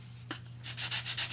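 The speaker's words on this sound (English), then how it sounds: "you can take this reliefing block and you can rub off the" A reliefing block rubbed over painted Vintaj metal, a short tap followed by several quick, close, scratchy back-and-forth rubbing strokes over a low steady hum.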